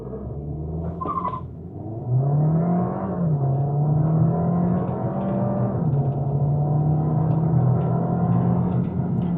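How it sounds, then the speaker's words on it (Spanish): A 2026 front-wheel-drive Audi A3 launches hard with traction control off, its engine note climbing loudly and then holding a strong, steady drone close by, with road rumble underneath. "hacemos la prueba de aceleración acá, frenado en seco"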